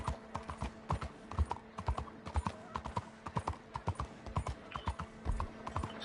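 Horse hooves clip-clop at a steady walking pace in the Red Dead Redemption 2 video game, a quiet, even clatter of hoofbeats with no talking.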